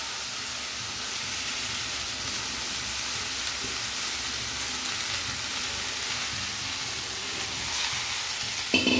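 Green beans and moth beans cook in a hot pan, giving a steady, fairly faint hissing sizzle throughout, with a brief clatter near the end and no voices.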